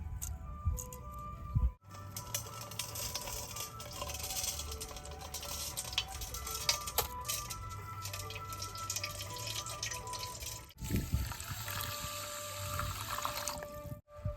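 Millet rice is washed by hand in water, giving close sloshing and splashing in uneven bursts with a couple of brief pauses.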